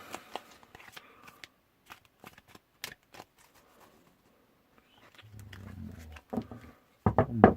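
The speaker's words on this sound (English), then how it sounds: "One more bridge shuffle." A tarot card deck is riffled in quick crisp bursts with pauses between, then a longer bridging riffle and a few sharp taps near the end, close up.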